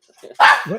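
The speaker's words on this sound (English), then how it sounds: "That's my dog." A dog gives one loud, close bark, preceded by a few soft, brief vocal noises and followed by a lower trailing yelp.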